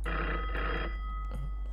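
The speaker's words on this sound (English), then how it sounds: "let's go ahead and answer the phone real quick" A telephone bell rings loudly and steadily for nearly a second, then a shorter second burst follows after a pause, with no talking over it.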